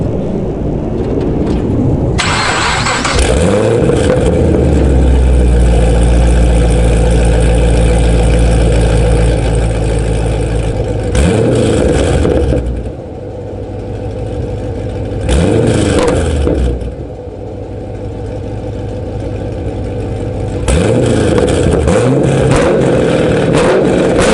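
A V8 engine with catless headers into a factory MPP exhaust idles with a deep burble, then revs hard several times in loud raspy bursts, the throaty exhaust note rising and falling close by.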